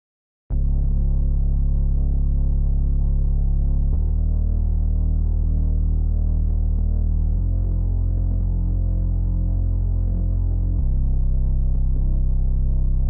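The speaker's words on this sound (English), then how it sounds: "add this Omnisphere bass. It's my own preset" Deep Omnisphere synth bass from a custom preset, programmed in FL Studio to follow the chord progression, plays alone as a loud sustained line whose held notes shift pitch every few seconds.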